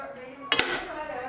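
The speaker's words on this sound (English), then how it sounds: "My bowl cracked, probably from the heat" A crystal bowl cracking from the heat of hot compote: a brief sharp double crack, close and distinct, over a quiet kitchen background.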